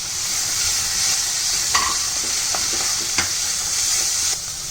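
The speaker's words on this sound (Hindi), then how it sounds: "तो अब हम टमाटर डालेंगे।" Tomatoes stirring and frying with spices and soy sauce in a pan for crispy chana, a steady close sizzle with a few scraping stir strokes and no talk.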